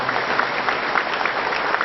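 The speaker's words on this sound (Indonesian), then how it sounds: "Tepuk tangan sekali lagi untuk beliau berdua." Brief, loud burst of steady applause from an audience at a gathering held at Al-Zaytun in Indramayu, continuous dense clapping throughout.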